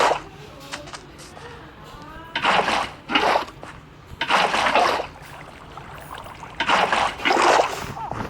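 Water placed in a Minecraft world makes three short splashy, gurgling bursts, each about a second long, separated by quieter stretches of low background sound.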